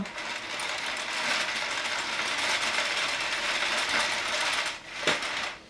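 A PRYM knitting mill is cranked with cotton yarn, giving a steady, close ratcheting clatter of gears and pawl that runs unbroken, with a brief sharper click near the end.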